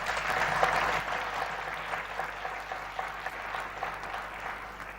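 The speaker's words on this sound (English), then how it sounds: "Please give him a round of applause." Audience applause at the Africa Forward Summit, a steady wash of many clapping hands that stays fairly loud for about five seconds and eases off slightly toward the end.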